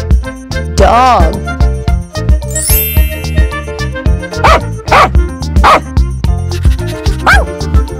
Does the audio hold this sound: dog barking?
yes